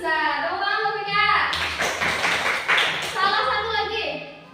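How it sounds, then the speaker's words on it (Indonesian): A classroom of students claps briefly for a classmate during an English comparative-degree lesson, a short burst in the middle framed by a teacher talking before and after. "Tepuk tangan Vika."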